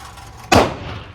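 A single sharp gunshot from a PSA 5.7 Rock pistol at an outdoor gun range, loud and close, with a short crack followed by a quickly fading echo.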